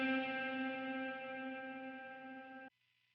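An electric guitar chord rings through a Line 6 Helix chamber reverb, held steady and full for under three seconds before cutting off abruptly into near silence.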